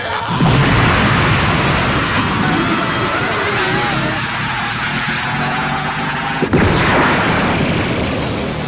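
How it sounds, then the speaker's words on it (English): A Kamehameha energy blast from the Dragon Ball anime roars as a sustained, loud broadband rush with rumbling booms, dropping briefly before surging again, flattening the fire and a whole mountain. "The first Kamehameha. It not only blew away the fire, but obliterated the whole mountain."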